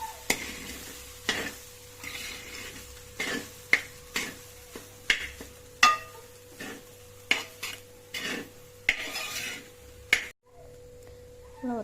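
Rice being stirred and mixed into fried rice in a hot pan, a series of sharp scraping clanks of a utensil against the metal, irregular but steady, over a faint sizzle before a brief quiet at the end.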